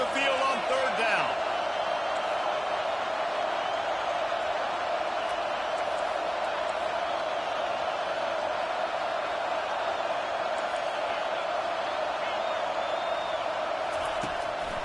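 A dense, roaring home crowd in the NCAA 25 college football video game swells on a third down, holding a constant loud wash of noise throughout.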